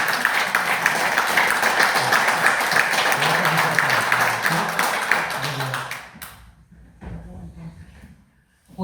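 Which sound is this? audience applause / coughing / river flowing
audience applause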